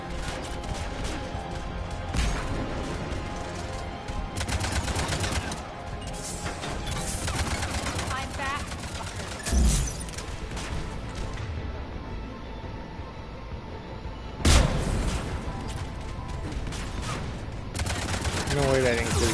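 Gunfire from Mass Effect 3 game combat, loud bursts of shots and impacts packed across the whole stretch, with sharp louder blasts near the middle and end, mixed with a voice talking over the action.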